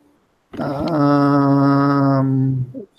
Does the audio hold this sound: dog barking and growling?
yes